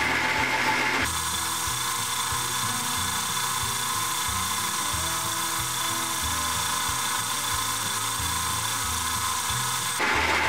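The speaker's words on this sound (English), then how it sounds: "We're gonna go back to the bandsaw" A bandsaw runs steadily, loud and close, cutting through wood for a homemade camera case, its continuous whine and buzz holding without a break between short bursts of the idling machine at either end.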